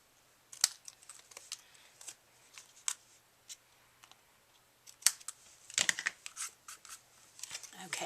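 Scissors trim through layers of card for a Valentine's card with a bear, giving a string of quiet, irregular snips and small clicks close by.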